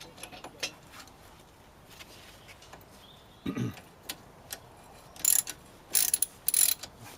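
A ratchet backs out the 10mm bolts on a dust shield of a Vauxhall Corsa Model D during a front suspension spring repair, giving quiet, sporadic bursts of clicking separated by near silence, with no talking.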